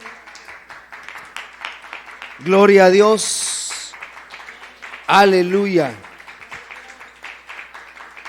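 A church congregation claps steadily through a service, a dense patter of many hands kept up in the background while a preacher shouts loud, drawn-out praises over it.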